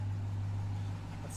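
A Ram 1500 TRX pickup's engine idles with a deep, steady low rumble, close and continuous, no talk over it.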